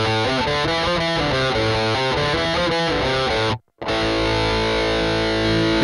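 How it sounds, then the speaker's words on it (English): Electric guitar through a Tube Screamer-style overdrive modeled on the Ibanez TS808, on a Valeton GP-5, plays a chugging, rhythmic riff with a thick, saturated tone, briefly cutting out before a sustained distorted chord rings. "based on legendary Ibanez TS808. So the Tube Screamer, the classic one"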